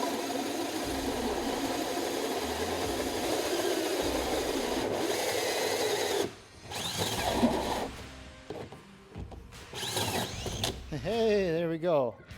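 A drill running at top speed drives a hole saw bit through a wooden cornhole board, giving a sustained grinding rasp that cuts off partway through, then sputters in short bursts while a voice speaks.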